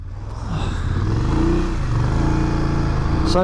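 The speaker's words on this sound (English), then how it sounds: "The engine doesn't sound the best, but it's got a Euro 5 can on it" A 2022 BMW F750GS motorcycle, 77 hp, fitted with a Euro 5 exhaust can, holds a steady, loud engine drone while riding, rising slightly at the start and then staying even throughout.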